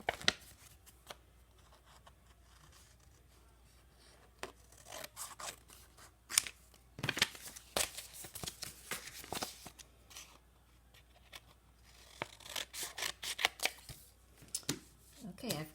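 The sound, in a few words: cutting out a folded paper shape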